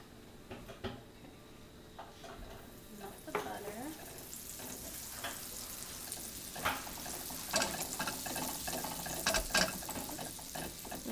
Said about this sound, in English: First, we're going to start by making a roux with the butter and the flour.